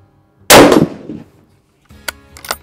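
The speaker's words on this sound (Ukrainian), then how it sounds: "буквально один постріл для того, щоб перевірити, наскільки добре пристріляні на заводі цілик та мушка" A single sharp rifle shot from an ATA Arms Turqua bolt-action carbine rings out on an outdoor 50-metre range, its blast decaying over about a second, followed by faint handling clicks and knocks.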